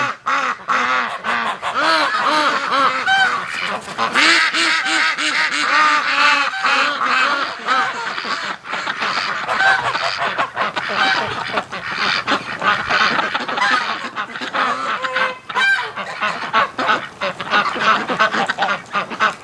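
A flock of ducks quacks and honks continuously on a farm in winter, the calls dense and overlapping at close range with no talk over them.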